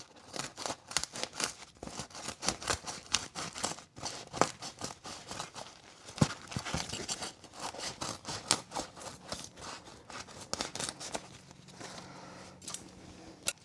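Scissors snip repeatedly through a sticky butyl strip close up, a steady run of sharp cuts and crinkling scrapes with no talking.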